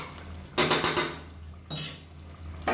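A lid set onto a pressure cooker of simmering Tamil chicken gravy, with two clattering metal scrapes and clanks close by, then a brief knock at the end.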